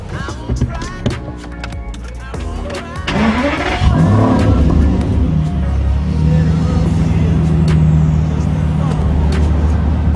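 An Aston Martin engine starts and revs at a fuel station, with a loud, deep mechanical roar rising after a few seconds of clicks and bumps and then holding at a steady high idle, with a person speaking nearby.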